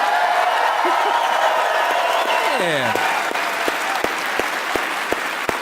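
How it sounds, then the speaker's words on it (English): Steady applause from a crowd at a University of Michigan campus event fills the space, a brief cheer early on, then the clapping thins to scattered individual claps. "give a round of applause to your campus police here"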